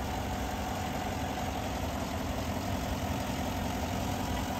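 A 2017 GMC Yukon XL with about 90,000 miles idles steadily nearby, a constant low engine hum and vibration with no voices.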